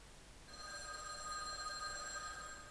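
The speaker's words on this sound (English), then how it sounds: "The phone rang." A telephone rings inside a lone phone booth in an empty park at night, a single sustained electronic bell tone that starts abruptly and holds steady, clear and moderately close, with no voices.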